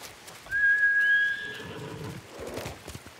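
A horse in the samurai video game Ghost of Tsushima lets out a single clear, high whinny lasting about a second. Soft, muffled movement follows in a quiet outdoor setting.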